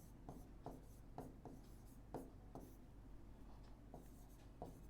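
Chalk or marker writing on a classroom board during a Class 10 maths lesson: quiet, close scratchy strokes in short bursts, about a dozen, at an uneven rhythm, with no talking.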